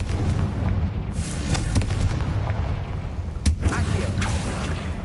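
A Confringo blasting spell goes off in a Harry Potter video game, with several booming explosive bursts and crackles layered over a dense, continuous rumble, one sharp blast standing out near the middle.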